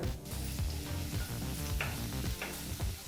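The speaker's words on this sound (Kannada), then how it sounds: "ಒಂದು ಟೇಬಲ್ ಸ್ಪೂನಷ್ಟು ಬೆಳ್ಳುಳ್ಳಿನ ಬಹಳ ಚಿಕ್ಕ ಚಿಕ್ಕದಾಗಿ ಕಟ್ ಮಾಡಿ ಬಿಸಿಯಾದಂಥ ಎಣ್ಣೆಗೆ ಹಾಕಿ ಒಂದು ಮೂವತ್ತು ಸೆಕೆಂಡು ಫ್ರೈ ಮಾಡ್ಕೋಬೇಕಾಗತ್ತೆ" Finely chopped garlic frying in hot sunflower oil for homemade fried rice, a dense steady sizzle with low rumbling bubbling that holds close and loud throughout a few seconds.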